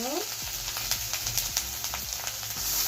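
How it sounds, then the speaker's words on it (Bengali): Vegetables sizzle and crackle in white oil in a pan, a steady frying hiss broken by stirring scrapes and sharp spatters, with a brief high squeak at the start. "দিয়ে দিলাম সাদা তেল একটু সবজিগুলোকে একটু ভেজে নেব"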